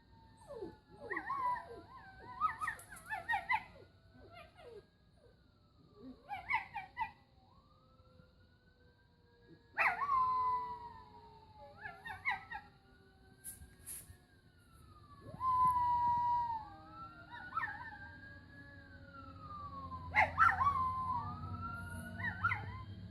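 A rescue dog howls along with a wailing ambulance siren, the long rising and falling siren sweeps repeating while the dog's quavering howls break in over them in several bursts at moderate distance.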